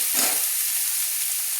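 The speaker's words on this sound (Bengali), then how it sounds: "তেলের মধ্যে কষিয়ে নিচ্ছি।" Onion paste frying in oil in a pan, a loud, dense, even hiss of sizzling held steadily throughout with no voices.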